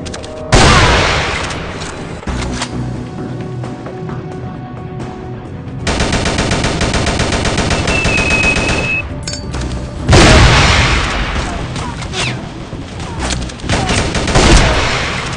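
Rapid bursts of gunfire and booming explosions from the Rival Fire shooting game, loud and close, come in dense volleys with short pauses between them, and there is no talking.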